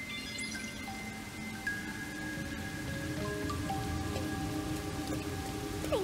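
Steady rain patters across surfaces in the Master Detective Archives: Rain Code game, a constant soft hiss with faint tonal game sounds drifting over it, no speech.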